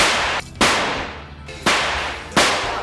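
Fireworks burst in a tense scene from the film Boogie Nights, with three sharp, loud cracks over a continuous dense rush of noise, each bang fading quickly before the next.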